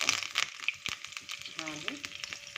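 Cumin seeds and curry leaves hit hot oil for a tempering in a pan, making a close, crackling sizzle with sharp pops and spatters. A faint steady hum runs underneath, and no one speaks.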